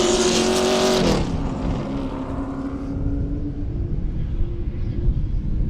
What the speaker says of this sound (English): these cars are loud and they are fast